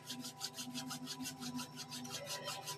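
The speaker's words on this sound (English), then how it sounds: "bringing that into the palms of your hand and rubbing them together." Palms of the hands rubbing together during a meditation, a soft, steady rhythmic rasping swish repeated quickly and close up, with no talk.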